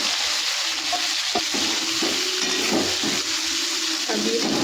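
Garlic, onion and green chili frying in a pan, a constant loud sizzle with occasional soft scrapes and taps from stirring, heard up close.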